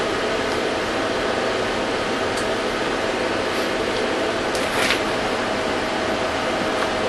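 A cooling fan runs beside a 1000-watt 48-volt ZVS induction heater, giving a steady loud broadband whoosh that holds unchanged throughout, close and continuous, with a faint high whine and no speech.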